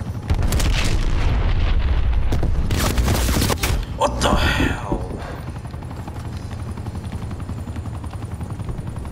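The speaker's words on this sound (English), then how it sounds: "Hostile attack helicopter inbound." Attack helicopter in Call of Duty Black Ops Cold War, its loud rotor roar mixed with bursts of gunfire and booming explosions, then a steady drone continuing alone.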